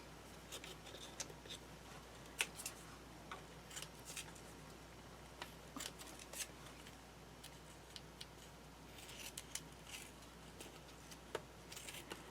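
Scissors snip at paper for a Christmas craft display box, quiet scattered clicks and cuts spread irregularly over several seconds in a calm room with no talk.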